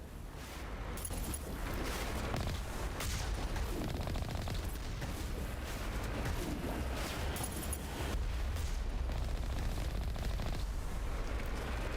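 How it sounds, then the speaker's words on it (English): Rapid, dense gunfire and a blast in the shooter game Mass Effect Legendary Edition, with loud overlapping bursts and booms running without a break through the whole stretch of combat. "Shooting a rocket. Shoot a rocket back at you."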